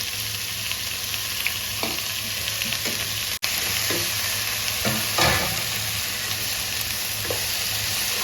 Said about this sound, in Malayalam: തക്കാളിയും പച്ചമുളകും കറിവേപ്പിലയും ഉള്ളിയും എല്ലാം ഒരുമിച്ച് തന്നെയാണ് നമ്മളിട്ട് ഇളക്കിയെടുക്കുന്നത്.